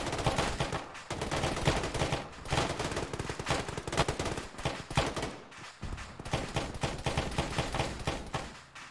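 Dense, continuous gunfire from a military shooter game (Arma, ShackTac session), rapid automatic bursts and overlapping shots rattling loudly without pause for the whole stretch.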